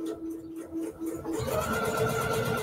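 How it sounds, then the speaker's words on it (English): Sewing machine stitching fabric for garland bunting at a 2.5 mm stitch length, a steady mechanical whir that starts softly with a faint hum and rises into a fuller, continuous rattling run after about a second and a half. "I sew using a 1/4 inch seam allowance and a stitch length."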